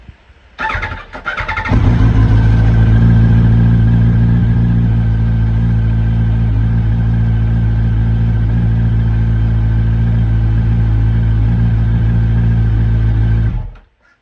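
A Yamaha R1 sport motorcycle engine cranks and catches, then holds a loud, steady high idle for about twelve seconds before cutting off abruptly, heard close up with no talking.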